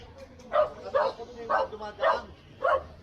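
A dog barks five times in a steady rhythm on a bridge in Manila, the sharp, fairly close barks spaced about half a second apart over faint background noise.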